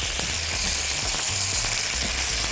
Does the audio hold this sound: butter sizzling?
yes